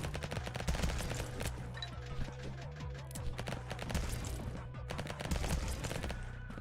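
Submachine gun firing in the video game Vampire Hunters, a rapid, continuous string of sharp gunshots with sustained automatic bursts and a low steady background hum.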